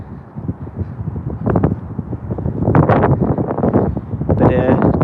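Gusts of wind buffet the microphone in rough, booming rumbles that rise and fall, with a voice partly buried beneath the noise.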